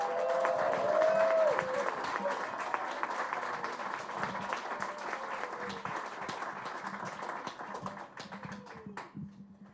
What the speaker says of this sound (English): Can we get one more round of applause for this entire group?